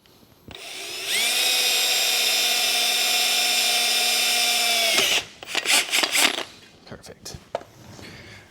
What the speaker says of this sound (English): if you want to drill out the other one too, just have extra support brace